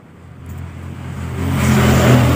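A Honda Vario 125 FI scooter engine, running clean and quiet after a valve adjustment, gradually rises in pitch and loudness as it revs up, close and clear.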